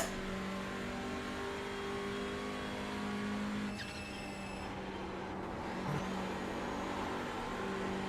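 A TCR touring race car engine drones steadily in the iRacing sim, a constant revving tone that shifts pitch as the throttle eases off mid-corner.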